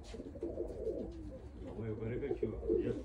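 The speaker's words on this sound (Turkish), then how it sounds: "Kanat vurmasını bekliyoruz güvercinin." A pigeon on a Torbalı fancy-pigeon flight, cooing and calling close by over continuous background chatter; people talk throughout, and no clear wing-flapping burst stands out.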